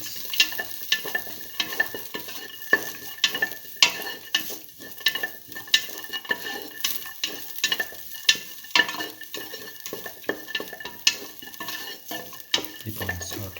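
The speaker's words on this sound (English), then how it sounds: "keep on sauteing." Shallots, salted garlic and ginger sauté in a pan, a steady sizzle broken by frequent sharp scrapes and clinks of a utensil stirring against the metal, close and with no talking.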